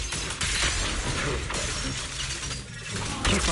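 A shattering attack effect from the video game Zenless Zone Zero bursts out as a loud, continuous crackle of breaking glass and grinding mechanical clatter, swelling again near the end.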